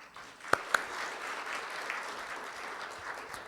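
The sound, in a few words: audience applause after a lecture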